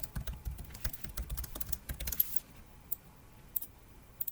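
Computer keyboard typing as code is written, a rapid irregular run of close clicks for about two seconds, then a few isolated keystrokes in near quiet.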